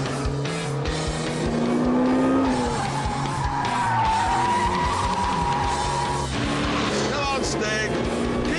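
Lotus Exige and Ford Mustang racing two laps of a short circuit, tyres squealing hard through the corners as engines rise and fall close by, loud and continuous with brief shifts in pitch.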